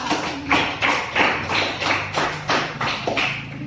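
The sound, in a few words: round of applause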